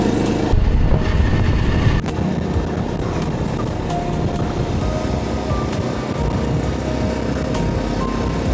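A motorcycle engine drones steadily while riding toward Malshej Ghat in monsoon weather, heavy wind-blown rumble throughout, with the engine making more noise than usual.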